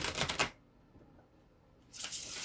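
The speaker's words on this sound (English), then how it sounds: "I think one more shuffle should do it" Tarot cards shuffled in two quick riffling bursts separated by a pause of near silence, close and soft.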